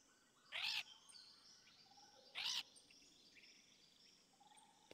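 Parrots in a Stardew Valley cutscene give two short, bright chirps about two seconds apart, over a faint game ambience of insects and birds.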